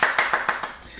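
A podcast audience clapping effect plays as a quick run of six sharp claps, close and loud, fading out within a second.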